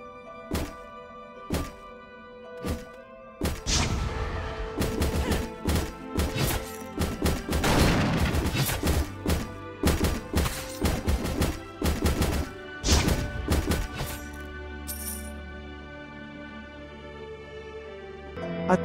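Repeated hacking and slashing combat hits in the AdventureQuest 3D game, a string of sharp thunks and smashes in quick bursts with brief pauses, loud and close with no talk.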